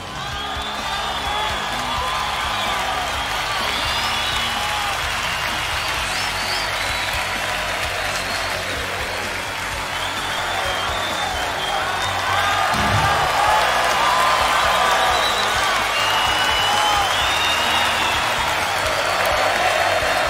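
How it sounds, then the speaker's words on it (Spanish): A large concert crowd at a show applauds loudly and steadily for about twenty seconds, with scattered whoops and cheers rising through the dense wash of clapping. "Le voy a pedir un fuerte aplauso para la persona que se va a arrimar a hacernos."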